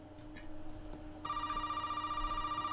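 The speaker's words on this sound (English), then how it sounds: "Ah, great, another phone call." A telephone rings in the Resident Evil 7 video game: a steady, electronic bell tone starts partway through and keeps pulsing in quick, even bursts over a low droning ambience.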